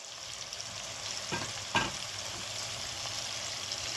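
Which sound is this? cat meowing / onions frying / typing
onions frying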